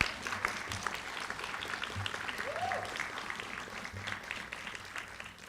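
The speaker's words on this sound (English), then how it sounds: "Could you give them a round of applause?" Audience at a school graduation ceremony applauding in a steady, dense wash of many hands that fills the hall, with faint murmuring underneath.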